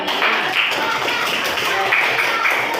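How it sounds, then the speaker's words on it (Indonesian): Classroom groups of students applaud together, a steady dense patter of many hands clapping that holds at an even level throughout, fairly close with room noise and no clear speech over it. "Coba kelompok yang lain kasih tepuk tangan nanti ya"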